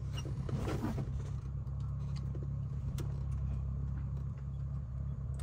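A small propeller airplane's engine starts up and runs, a steady loud low engine drone that holds throughout with little change.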